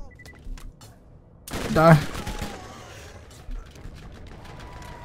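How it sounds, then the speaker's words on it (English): Gunfire and explosions from the Borderlands video game burst out mid-clip in a loud cluster, with fainter shots before and after, while a player talks over the action. "There's just explosions happening."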